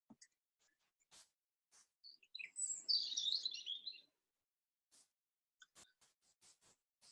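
A songbird sings a single bright, twittering phrase of rapid high notes lasting about two seconds, fairly close and clear, set between quiet pauses with only a few faint distant chirps around it.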